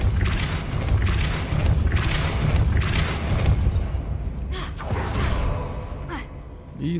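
A Depulso spell cast in Hogwarts Legacy: repeated booming whooshes pulse loudly through the first half, then fade into quieter rumbles and short clicks as the game's ambience thins out.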